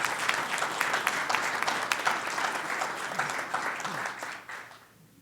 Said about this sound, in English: That deserves a round of applause, I think.